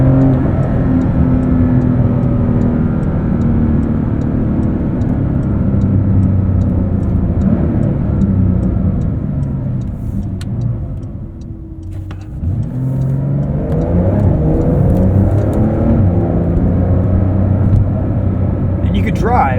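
Porsche 911 Dakar driving in off-road mode with its suspension raised, giving a steady, loud engine and road rumble that dips briefly mid-way and then builds again, with a voice talking over it throughout.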